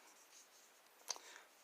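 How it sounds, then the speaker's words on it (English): Faint, steady scratchy scraping of a knife blade shaving a wooden dowel, with one brief sharper scrape partway through. "just going to shave this down and then burn the shavings"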